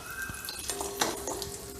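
Cashews and raisins frying in hot ghee with a steady sizzle, punctuated by light clinks of a metal spoon stirring against the pan.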